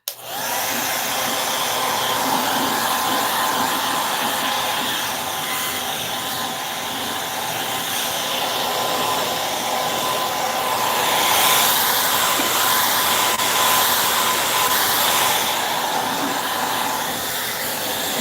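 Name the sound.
hair dryer blowing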